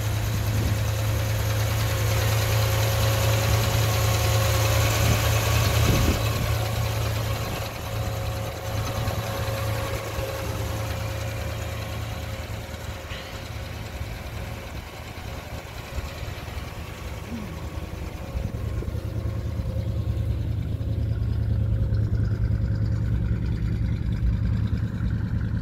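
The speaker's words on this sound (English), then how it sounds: "1957 Chevrolet Bel Air Convertible. Two fours with a batwing air cleaner." A 1957 Chevrolet Bel Air convertible with two four-barrel carburetors and a batwing air cleaner idles steadily nearby, a deep, even rumble that holds through the whole stretch with only slight swells.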